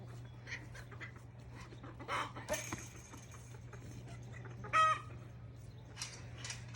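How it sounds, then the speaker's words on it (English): Chickens on a farm cluck and squawk in scattered bursts during a scuffle, with a louder flurry near the end, all over a steady low hum and no talking. "We have a bit of a chicken fight going on."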